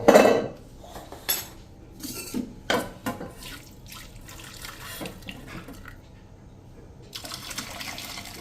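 Dirty hot water from a badly burnt pressure cooker is poured into a separate metal vessel. Sharp metallic clanks and knocks come first, followed by a light, splashing trickle of liquid near the end.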